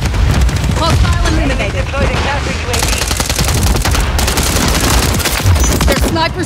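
Dense automatic gunfire and rapid bursts from a Call of Duty: Modern Warfare 3 (2023) multiplayer match, loud and continuous with explosive thuds, while a game voice calls out over the shooting.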